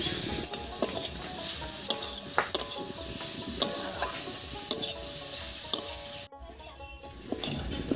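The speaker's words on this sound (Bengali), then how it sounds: "এবার নারকেলটাকে নাড়ু বানানোর মতন করে একটু পাক দিয়ে নেব।" Grated coconut is stirred and cooked down in a pan, with a soft continuous sizzle broken by scraping and clinking strokes of a utensil against the metal, close up, with a brief pause near the end.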